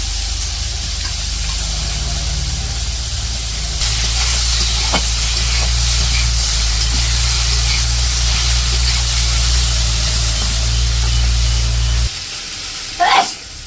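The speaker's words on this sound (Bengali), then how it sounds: "এদিকে তেল গরম হয়ে গেছে মাছ দিয়ে দিচ্ছে কড়াইয়ে মাছগুলো ভাইজে নিতেছে" Fresh pond fish frying in hot oil in a wok over a village stove, a steady loud hiss and sizzle that rises after a few seconds, then drops away near the end with a brief clatter.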